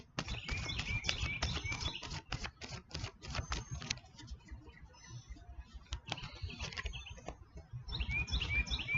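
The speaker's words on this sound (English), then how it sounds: "This is my last shuffle." Tarot cards riffled and shuffled by hand in a quick, dense burst of crisp flutters, pausing midway before another run of snapping riffles near the end.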